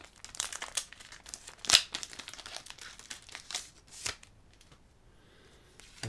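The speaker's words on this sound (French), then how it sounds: "je n'arrive toujours pas à ouvrir ces boosters proprement" Pokémon card booster packs being torn open, with close crinkling foil wrappers and sharp tearing rips in irregular bursts, one louder rip standing out.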